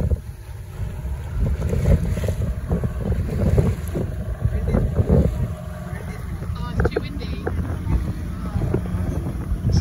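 Strong wind buffets the microphone at a beach in Gokarna, India, a steady roaring rush with waves and a boat engine mixed in and people talking over it.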